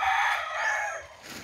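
A single chicken call rings out, a rooster-like crow with a harsh rising and falling tone, fairly close, with faint background noise.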